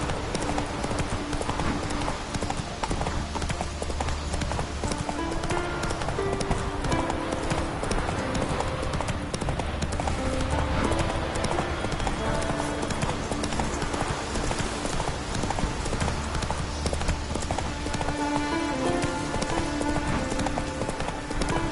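Hoofbeats of the horse Roach galloping in The Witcher video game, a steady, dense clip-clop rhythm that runs continuously over a busy game soundscape.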